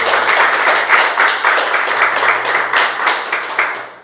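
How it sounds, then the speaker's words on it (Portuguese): Congregation applause at a Christian church service, a steady, dense wash of clapping that fills the whole stretch at moderate loudness and fades slightly toward the end. "E mais uma salva de palmas a Jesus"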